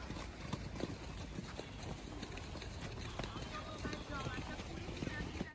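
A horse trots in a riding arena, its hooves beating a steady, even clip-clop rhythm at moderate distance, with wind and a voice underneath.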